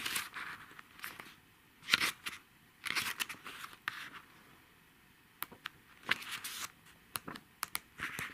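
Notebook pages being turned and handled, giving several brief crisp paper rustles and flips in an irregular rhythm with quiet gaps between, close and fairly soft.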